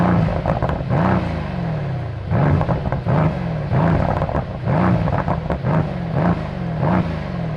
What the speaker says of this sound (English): it still sounds really good, as you'll hear now